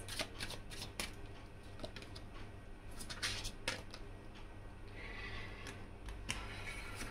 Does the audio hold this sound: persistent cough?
no